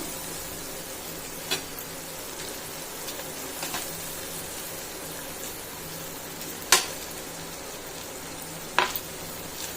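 Spinach sizzles and fries steadily in a hot pan, a continuous close crackle with a few sharper pops and occasional stirring clicks.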